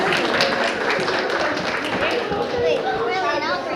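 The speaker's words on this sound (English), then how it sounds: "Big round of applause for my animal trainers." An audience claps and applauds for the animal trainers at a performing poodle show, a dense, steady wash of clapping mixed with voices talking over it.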